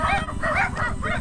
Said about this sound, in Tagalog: Yan yung mga aso dito.